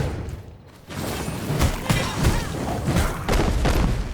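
In V Rising combat, exploding enemies go off in a rapid series of heavy booms and thuds, dense and loud over a rumbling game soundscape.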